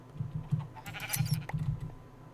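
Sheep in Minecraft bleat several times in short, evenly paced calls, moderately loud with no voices over them.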